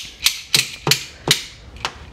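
A pair of Fujiya hose cutters from Japan gives five crisp, close metallic clicks from its internal ratcheting mechanism, evenly spaced at roughly a third of a second, each a sharp snap with a short tail.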